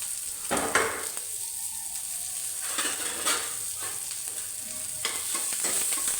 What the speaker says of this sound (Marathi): लसूण कढीपत्ता आलं आणि मिरची हे पण भाजून घ्यायचं थोडं